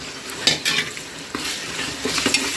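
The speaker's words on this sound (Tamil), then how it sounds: "இப்போ இந்த ஸ்டேஜில் நம்ம இஞ்சி பூண்டு போட்டு வதக்கணும்." Ginger-garlic paste sautéing in a pan for biryani, a close sizzle broken by a few sharp spoon-on-pan scrapes and clinks.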